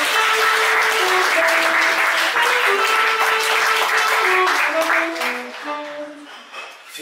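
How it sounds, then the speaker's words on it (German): Loud, sustained applause from a poetry slam audience fills the room, while a sung or spoken voice rides on top before the clapping fades out at the end. "Sie einen riesengroßen Applaus für"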